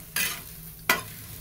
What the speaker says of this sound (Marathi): आता मी भेंडी टाकून घेतली आहे तव्यावरती